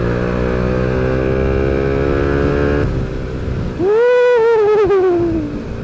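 Motorcycle riding in traffic, its engine droning steadily at close range, then cutting off as a rising and falling horn-like tone sweeps over the end.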